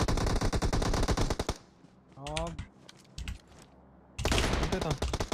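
Rapid automatic gunfire in the mobile battle royale game PUBG Mobile, a dense burst for about a second and a half, a quieter gap with a short voice and faint shots, then another loud rattling burst.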